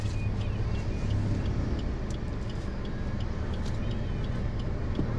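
Car moving up a ramp as the clutch is released and the accelerator is lightly pressed, a steady low engine hum with faint ticking, close and continuous with no talk.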